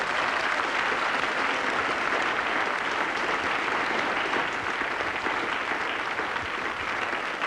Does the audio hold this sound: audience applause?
yes